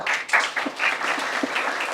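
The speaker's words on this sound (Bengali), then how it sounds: "দাদার জন্য হাততালি হবে না" Audience applause at a defence academy gathering honouring a student who passed his selection, a dense, steady patter of many hands clapping close by for about two seconds.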